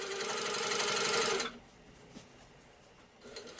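A sit-down quilting sewing machine stitching a large quilt runs in a fast, steady, close whir for about a second and a half, then stops, leaving only quiet room noise.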